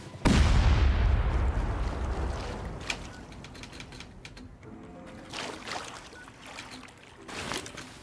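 A rocket slams into a base in the video game Rust with a loud, sudden blast that rolls into a long rumble, followed by fainter crackling impacts and debris.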